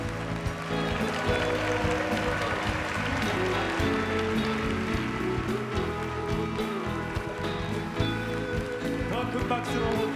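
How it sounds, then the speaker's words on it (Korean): A church congregation at the Onnuri revival festival applauds and cheers as Pastor Ha Yong-jo comes up to speak. The clapping is dense and steady for the whole stretch, loud and close, with music running beneath it. "목사님 올라오실 때 환호성과 큰 박수로 축복하시고 맞으시면 감사하겠습니다."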